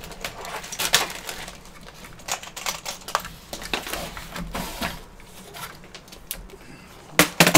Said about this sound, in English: I'm going to test the keyboard.